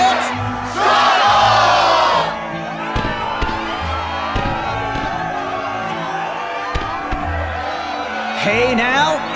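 Game crowd in Kingdom Hearts roaring and whooping before a Struggle match, a loud sustained cheer with a sharp burst early on, then continuing under game music and effects.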